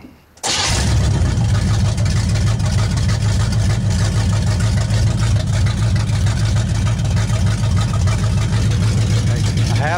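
A 1970 Chevy Nova V8 with no mufflers fires up after a brief silence and settles into a loud, rough, continuous idle, near and dominant throughout.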